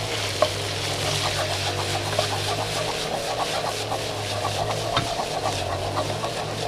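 Minced pork with basil stir-fries in a wok, a steady close sizzle with rapid scraping and tossing strokes throughout, a low hum underneath and no voice.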